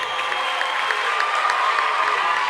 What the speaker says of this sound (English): The Wildwood Catholic crowd rising to their feet.